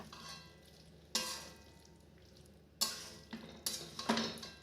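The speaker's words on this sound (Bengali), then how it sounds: "সয়াবিন আলু দিয়ে ভালো করে আরেকটু কষিয়ে নেব" Soybean chunks and potatoes frying in a pan give a soft, close sizzle, broken by several sharp scraping bursts as a spoon stirs them.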